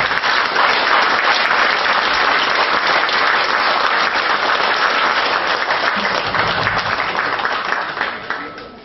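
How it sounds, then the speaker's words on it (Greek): Sustained loud applause from the audience at a Greek political party presentation of European Parliament candidates, dense continuous clapping that holds steady for several seconds and tapers slightly at the end. "Άλλο ένα χειροκρότημα παρακαλώ."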